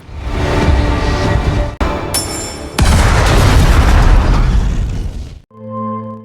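A bomb blast from the action film Bloodshot booms loudly in two heavy bursts with a brief metallic ring between them, then fades into a low sustained tone.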